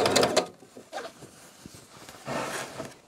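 A sewing machine stitching upholstery fabric in a furnishing workshop, with a short burst of fast stitching at the start and another near the end, separated by quieter handling noises.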